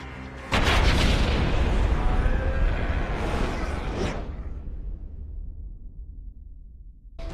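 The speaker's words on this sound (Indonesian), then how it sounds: "Lalu ayah Bena meledakkan bomnya." A bomb detonates among a horde of zombies in a 2017 zombie film, giving a sudden loud blast that swells into a long, heavy rumble and then fades away slowly, with no voices over it.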